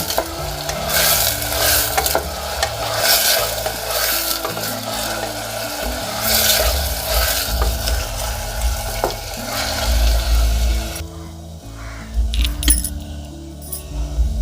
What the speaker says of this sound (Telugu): కొబ్బరి టమాటా ఇప్పుడు ఇంక ఇది ఒకసారి మిక్స్ చేసుకున్నాం